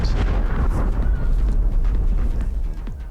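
A deep, rumbling video-game explosion rolls on as a dense low-frequency roar with a crackling tail, loud and sustained, and no voices over it.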